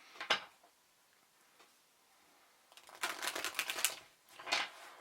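A tarot deck is shuffled up close in short bursts, a quick flick of cards at the start, then a longer riffling run of crisp snaps and slides followed by one more brief burst.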